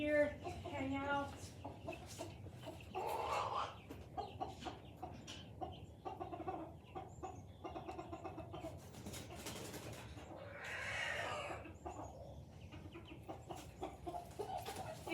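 Chickens cluck and coo close by while a small blue hen is picked up and handled, with soft murmured talk and rustling mixed in among the bird calls.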